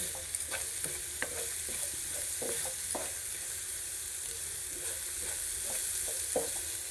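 Onions sizzle softly in a pan with coriander powder, a steady fry punctuated by a series of light spoon scrapes and clicks as the mixture is stirred, with no voices.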